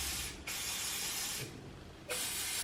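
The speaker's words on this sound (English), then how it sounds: "I'm going to go in with my Fern McCann, just from the pound shop, Firm Hold hairspray." Close, steady hissing bursts of Fern McCann Firm Hold aerosol hairspray misted over curled hair, with two long sprays broken by short pauses. No one speaks.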